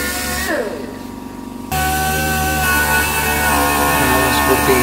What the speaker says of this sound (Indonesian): kita masih bisa menggunakan amplas mesin ya, amplas pneumatik